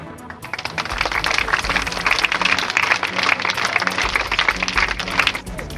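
Audience applause at a stadium ceremony honoring winning boxers, a dense, steady wash of clapping filling the space, with a low hum underneath.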